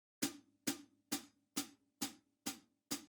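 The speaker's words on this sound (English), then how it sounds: "here are the hi-hats." Seven evenly spaced hi-hat hits from the Spitfire Audio LABS drum library, each a crisp, bright tick with a short decay. They play alone in a steady rhythm, about two per second, close and clean.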